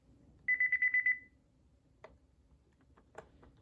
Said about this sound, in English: It's got a pretty loud beeper.